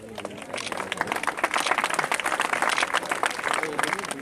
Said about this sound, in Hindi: आप लोग ताली बजा दीजिए भाई।